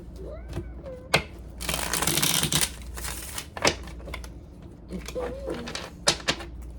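Tarot cards being shuffled and riffled in bursts close by, with crisp flicking and rustling, and a voice speaking intermittently between the shuffles.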